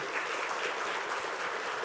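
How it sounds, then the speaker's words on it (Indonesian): Applause from an audience at an eye hospital's anniversary celebration, a steady, dense wash of clapping from a crowd, moderately faint and unbroken, with no voices over it. "Tepuk tangan sekali lagi."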